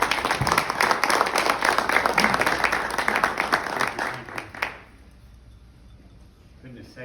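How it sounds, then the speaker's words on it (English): Audience applause for speaker John Caroll, a dense, sustained wash of clapping that holds steady for several seconds, then fades out abruptly, leaving near-silence with faint room noise. "give John a round of applause for all he's done for our"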